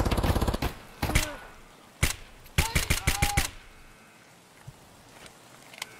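Gunfire in Escape from Tarkov: a fast automatic burst at the start, then scattered single shots and a quick string of loud cracks, with faint distant reports trailing off at the end.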